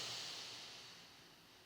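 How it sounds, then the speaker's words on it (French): A deep breath drawn through the nose during a Pilates class, a soft airy hiss that starts strongest and slowly fades over under two seconds. "On inspire profondément par le nez et on souffle."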